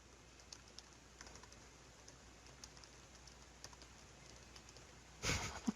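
Computer keyboard typing while filling in the details of a desktop support task form, light and fairly steady clicking, close and quiet, with a louder burst of keystrokes near the end.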